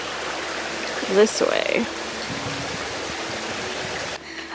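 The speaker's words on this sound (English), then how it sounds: "I love feeling the water. I always stick my hands in." Stream water rushes steadily along a hiking trail, a constant broadband flow up close, with someone briefly speaking over it partway through.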